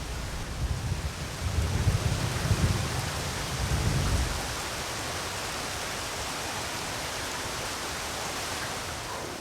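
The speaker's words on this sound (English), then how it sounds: "But as the rain eases up" Heavy rain pours steadily over open wilderness where lions shelter, with a deep rumble of thunder rolling through the first few seconds before the downpour continues alone as a dense, even hiss.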